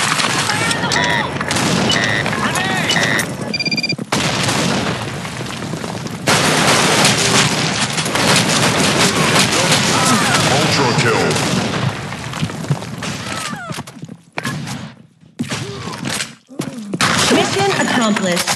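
Grenade blasts and gunfire in a team-based shooter video game, a dense, loud run of booms and shots with chatter over much of it, breaking into a few brief gaps near the end.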